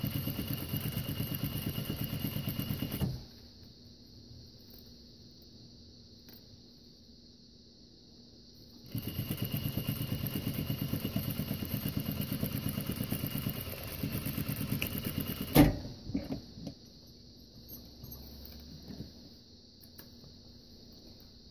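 A sewing machine stitches a zip bag in two steady mechanical runs, a short burst and then a longer one separated by a quiet pause, ending with a sharp click and some light handling noises.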